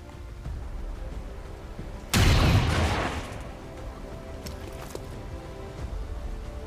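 A single heavy shot in the video game XCOM 2 booms out loud and abrupt, then rings briefly before fading over about a second into a quiet background.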